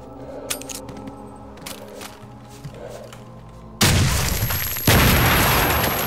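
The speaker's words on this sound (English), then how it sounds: "Maybe I'll just throw a grenade." A grenade explosion in the video game STALKER: Shadow of Chernobyl: after a quieter stretch of ambient game sound, a loud broadband blast hits suddenly, followed a second later by a second heavy boom that rumbles on.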